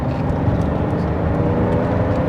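Ferrari Testarossa engine held at about 2500 rpm while driving, a loud, steady low rumble from inside the car with no talking.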